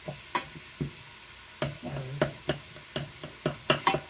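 Sausage and a pound and a half of 80/20 ground beef frying in a pan, with a steady low sizzle and repeated scraping stirs at close range, spaced irregularly through the sound.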